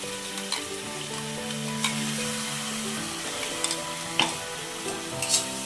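Ginger, onion and garlic paste fries in a pan, a dense close sizzle with occasional stirring scrapes and pops, no voices.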